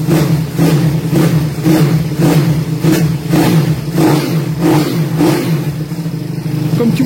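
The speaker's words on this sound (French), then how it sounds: "Comme tu vois, ça prend des tours à mort." A Zongshen 180 motorcycle engine, freshly rebuilt and not yet tuned, revs hard just after a kick start, its note rising and falling in steady repeated surges, loud and close with no voices.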